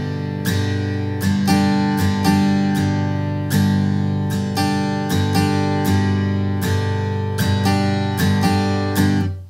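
Guitar shuffle rhythm played at a faster tempo, crisp repeated strums in a driving swung triplet pattern, close and steady with no voices.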